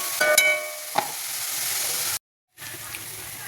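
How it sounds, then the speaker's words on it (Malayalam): A chicken cheese ball mixture is stirred together in a bowl. A few sharp clinks come first, then a soft, steady scraping that cuts out briefly before resuming. "ഇതെല്ലാം കൂടി ഒന്ന് മിക്സ് ചെയ്യുക"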